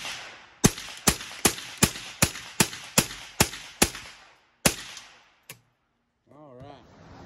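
A Ruger 10/22 rifle fires about ten sharp, evenly spaced shots in quick succession, then one more crack after a short pause, and a voice briefly speaks at the very end.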